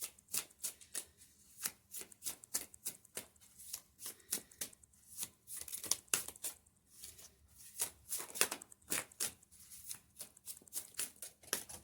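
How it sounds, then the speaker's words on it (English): A deck of cards is shuffled repeatedly, crisp riffling bursts and taps coming in quick irregular runs, close and clear with no talking. "I just want to see what comes out if I shuffle the sneaky deck."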